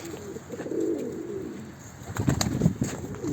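Pigeons in a fancier's loft coo in low, rolling murmurs that swell and fade, with a busier burst of several birds calling together near the end; no one speaks.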